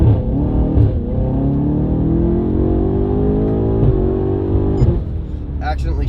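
BMW M8 Competition fitted with downpipes pulling hard from a brake-boost launch, its engine note climbing steadily through the revs in a loud, continuous rising drone, then a brief shift break near the end before it pulls again.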